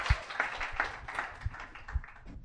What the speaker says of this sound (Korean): 박수를 한번 맞으십시오.